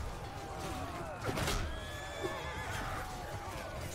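A horse whinnies loudly in the medieval combat game Realm of Thrones, amid battle noise and hoofbeats, with someone speaking over the scene.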